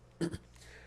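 A single short cough, two quick bursts close to the microphone, then quiet room tone.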